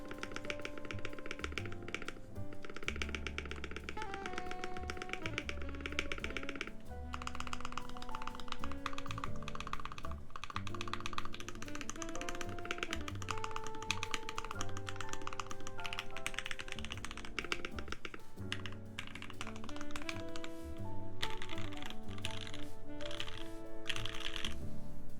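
Steady typing on a Slipline mechanical keyboard, close up, with dense, continuous key clacks and periodic deeper thocks from the spacebar.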